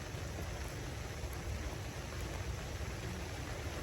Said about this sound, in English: Might have to take a break because it's starting to rain.